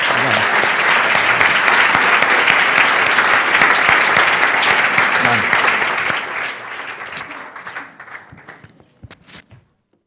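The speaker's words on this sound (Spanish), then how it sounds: "deberíamos ya concluir con un aplauso para los dos ponentes" Steady, full audience applause closing a renewable-energy self-generation panel at a congress, sustained and dense for about six seconds before thinning into scattered claps and stopping.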